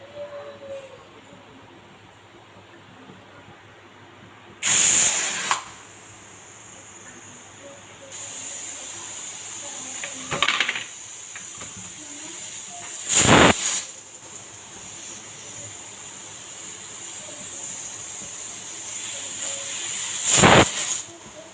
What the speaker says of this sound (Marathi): मिडियम आचेवर 3 व्हिसल्स आपल्याला काढून घ्यायच्या आहेत.